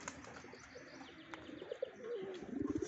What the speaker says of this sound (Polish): Grukają, parzyć się jeszcze chcą